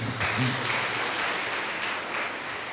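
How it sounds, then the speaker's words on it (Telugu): A church congregation claps in praise of Jesus during a service. The applause is soft, continuous and somewhat distant, and a voice briefly overlaps it at the start. "చప్పట్లు కొట్టాలి యేసయ్యకు."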